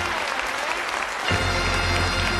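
Studio audience applauding on the UK game show Bullseye, a sustained burst of clapping that swells louder partway through and continues to the end, with no talk over it.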